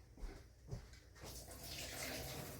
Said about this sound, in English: I'm going to drain these real quick.